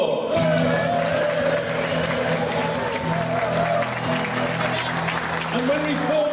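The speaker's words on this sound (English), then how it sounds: "a phenomenal round of applause" Sustained applause from a reunion crowd of HMS Ganges association volunteers at Gunton Hall, dense clapping filling the room with cheers and a steady musical hum beneath.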